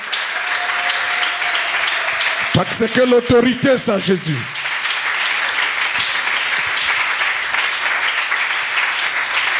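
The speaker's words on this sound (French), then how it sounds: "Est-ce qu'on peut ajouter des acclamations?" A congregation claps and cheers continuously, loud and close, while someone speaks briefly over the applause partway through.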